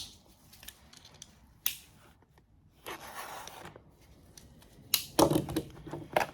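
Cutting open the package of a new headlight igniter for an Acura TSX, a few sharp snips and crinkly plastic tearing, close and fairly quiet, with brief pauses between.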